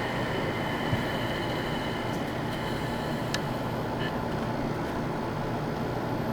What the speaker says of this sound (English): we're just gonna cut it back, cut the fan back on and see if it spins up any faster